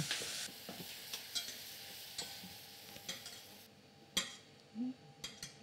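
Snail juice goes into a hot pan to build a broth for gnocchi with white Munster, giving a soft sizzle under light utensil stirring and clinks, close and fairly quiet, fading toward the end.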